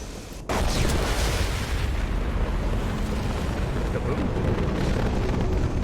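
A big explosion erupts in the Mass Effect 2 Legendary Edition video game after a short pause, then a loud, dense rumble sustains to the end.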